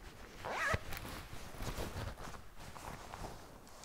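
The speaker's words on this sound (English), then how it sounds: "There's an internal zipper." The internal pocket zipper of a KLIM Tomahawk Gore-Tex jacket drawn in one quick, close rasping pull, followed by faint rustling of the fabric.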